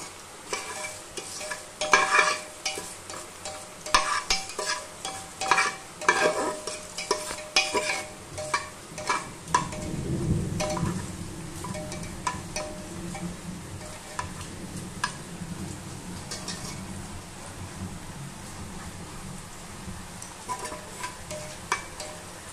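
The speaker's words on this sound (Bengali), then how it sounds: "শুকনো লঙ্কা দিয়ে দিলাম তেলে, আর এটা ভালো করে ফোড়নটা ভেজে নেব" Dried red chillies frying in hot mustard oil, with a steady sizzle and crackle and repeated scrapes and taps of a spoon stirring in the pan, close and continuous with no talk.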